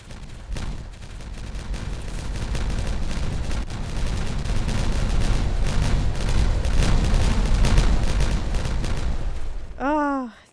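Explosive detonation in the beaver city-builder Timberborn, a long sustained rumbling barrage of booms and crackling blasts that swells and holds for several seconds before cutting off, followed by a brief chirping sound.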